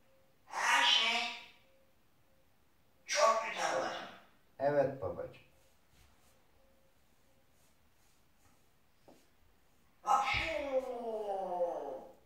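Several loud breathy bursts separated by quiet pauses, including a sharp sneeze, with voices heard around them.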